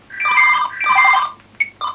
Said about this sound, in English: Probably our first phone call.